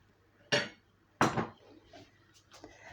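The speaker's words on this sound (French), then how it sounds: "Alors, je mélange l'ail et de la ciboulette." Garlic and chives are mixed in a bowl while preparing Congolese grilled fish with sorrel: two sharp, close utensil clinks against the bowl, followed by a few faint taps.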